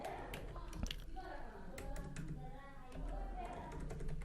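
Quick bursts of typing on a computer keyboard, with clustered key clicks and short pauses, heard close and clear at modest volume.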